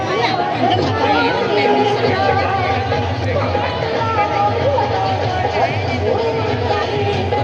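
Dense crowd chatter fills the Charkop Malvani fair, with many overlapping voices in a steady, loud babble close around the listener and no single voice standing out.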